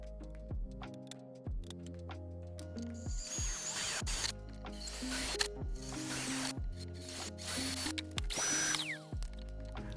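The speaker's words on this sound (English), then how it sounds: "I drilled holes in the four corners to hopefully give it a nice radius." A drill bores holes in a computer case panel, heard as a series of quiet, spinning motor bursts that rise and cut off in repeated stepped pitches, with ratcheting clicks and no talk.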